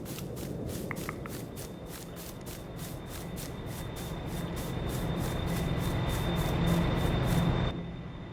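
Train in Farming Simulator 22, a low steady rumble with rhythmic rail clicks, gradually building louder before cutting off near the end.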